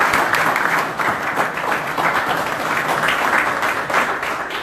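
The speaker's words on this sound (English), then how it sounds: "Give them a round of applause." An audience applauds steadily and loudly at a talk on collaboration in using Bahamas natural resources. The dense clapping stays sustained throughout, with no break.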